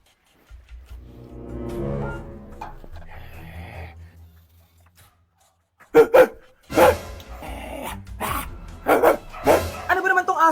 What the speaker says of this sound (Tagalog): Ano ba naman tong asong to?